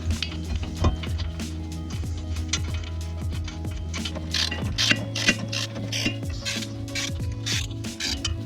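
A ratchet tightens the brake caliper bolts on a 2015 Subaru Forester with a run of quick, close clicking strokes and a short pause partway through, fairly quiet with no voices.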